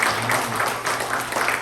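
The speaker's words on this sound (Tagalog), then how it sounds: "Isang palakpak nga dyan para kay Diyos." A church congregation at a Resurrection Sunday service claps in a brief, dense burst of applause that holds steady for under two seconds.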